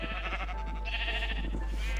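Sheep on a sheep farm bleat in a steady wavering cry over a low constant hum, lasting about two seconds with no speech.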